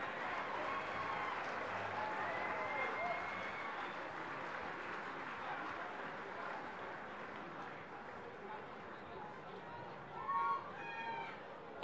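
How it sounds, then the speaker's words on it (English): A crowd applauds the fighters at a 2013 fight night, the clapping faint and distant under a murmur of voices, with a few higher calls near the end. "Let's give these boys a round of applause."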